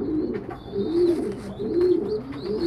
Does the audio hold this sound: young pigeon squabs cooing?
yes